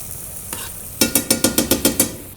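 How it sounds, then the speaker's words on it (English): Mustard being stirred into a mushroom cream sauce in a pan, heard as a brief soft scrape followed by a steady run of about eight rhythmic stirring strokes, close and fairly loud, with a faint sizzle underneath and no talking. "now I'm gonna add a little bit of mustard into the mushroom cream just to finish it off"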